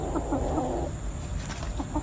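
Chickens cluck softly in short bursts against a steady background hum, with no one speaking.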